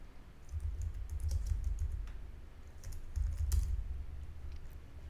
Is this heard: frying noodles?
no